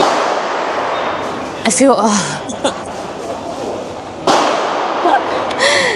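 Ruger rifle firing outdoors at a shooting range in Thailand: two sharp, loud single shots a few seconds apart, each a sudden crack, heard over continuous talking and background noise.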